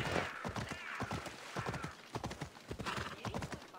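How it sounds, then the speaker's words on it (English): Horse hooves clip-clop steadily in Assassin's Creed Odyssey, a brisk galloping rhythm running throughout alongside game music and occasional whinnies, with someone talking over it. "Let's go, horsey."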